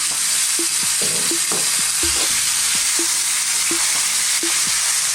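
Lean beef strips hit a hot pan for an Indian masala beef curry, producing a loud, continuous hiss of sizzling with regular light knocks of stirring, close up and without talk.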